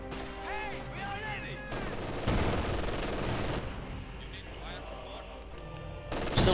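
Rifle fire and rifle grenade blasts in the Company of Heroes 2 video game, with bursts of gunfire and sharp explosions. A commentator talks over the battle.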